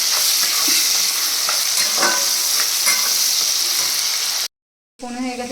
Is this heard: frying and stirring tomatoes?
yes